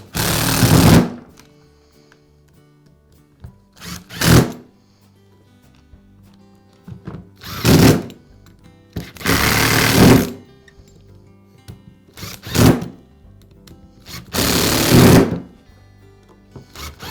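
A repaired Makita disc sander with a newly replaced switch runs in short bursts, six or so spin-ups that each whir loudly for about a second before cutting off, separated by near silence.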